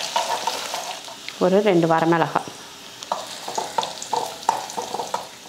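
Cumin seeds and garlic fry in hot oil in a kadai, a steady sizzle with scraping stirs, while a voice speaks briefly over the cooking.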